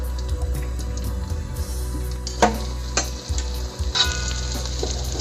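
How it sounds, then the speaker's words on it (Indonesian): Beaten egg frying in a pan as an omelette for Indonesian telur geprek, a steady close sizzle that flares louder in bursts, with faint clinks and stirring. "Ini udah jadi telurnya, langsung kita goreng ya."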